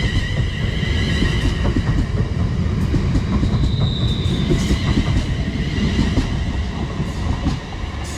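A London Northwestern Railway Class 350 electric unit pulls out of Birmingham International on the West Coast Main Line, a steady close rumble of wheels and motors with rhythmic rail clicks and a brief high squeal midway.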